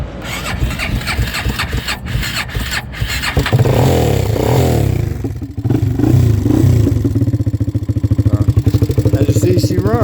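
A Kawasaki KFX400 ATV with an intermittent fault cranks, catches and settles into a loud, close, rapid-firing idle that runs steadily, with revving surges partway through.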